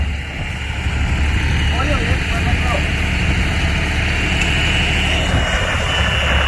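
A tractor-driven groundnut thresher running, a loud steady mechanical roar with a low engine drone underneath, continuous and close, with a voice talking over it.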